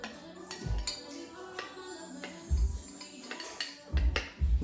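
A utensil scrapes and clinks against a dish while ingredients are mixed, with several sharp taps at irregular intervals and softer stirring between them, close and fairly quiet.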